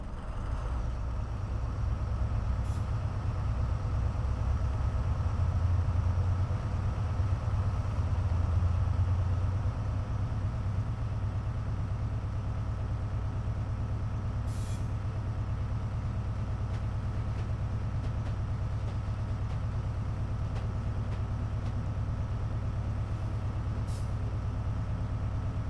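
A freight train under power in Train Simulator Classic, a steady low engine rumble and rolling drone continuing throughout with faint brief hissing bursts, no talk.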